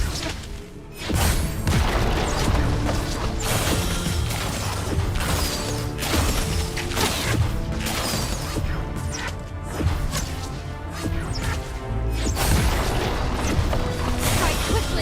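Combat in League of Legends: Wild Rift as a team attacks enemy turrets, with dense overlapping impacts, crashes, clanks and whooshes layered over loud continuous game music.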